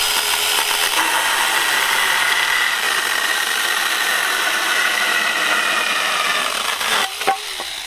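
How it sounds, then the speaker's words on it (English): TomyVic 6-inch battery mini chainsaw cutting through a 2x4 board, a loud continuous buzzing whine held steadily for several seconds before easing off with a couple of brief knocks at the end. "It's actually a fairly clean cut, cutting 2x4s with the chainsaw."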